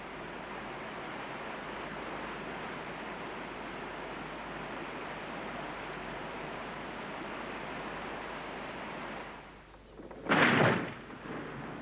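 Water pours steadily over a small model waterfall in a constant rushing hiss, broken near the end by a brief louder splash or gush.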